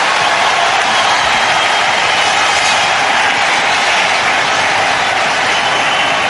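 A cricket crowd at the Sharjah Cup roars after a Tendulkar boundary against Zimbabwe, a dense, loud, unbroken wall of cheering that stays steady throughout.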